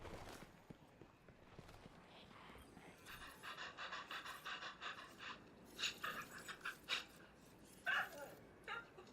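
Dog panting in Destiny 2 after being petted, a steady rapid breathing rhythm under a bed of game ambience, with brief bursts of louder breaths toward the end.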